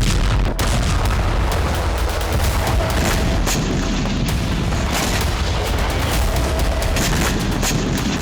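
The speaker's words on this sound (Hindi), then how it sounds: "यूक्रेन में जिरकॉन और इस्कंदर जैसी मिसाइलों के धमाके हुए।" Explosions from Zircon and Iskander missile strikes in Ukraine, a dense rumble of booms and blasts with a sharp crack near the start, loud and continuous throughout.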